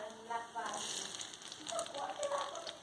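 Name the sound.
ginger and garlic frying in pan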